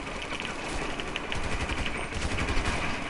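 Continuous gunfire in a first-person video game, a dense, steady barrage of rapid shots heard loud and close throughout, with no voices over it.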